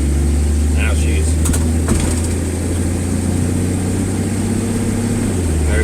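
A 1963 Ford Falcon Futura's engine running steadily, with a low, even drone that shifts pitch slightly as the car moves into second gear, a few faint clicks and rattles on top.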